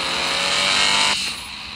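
A European luxury car drives past at close range, a broad rushing engine and tyre roar that swells briefly and then drops away as it recedes.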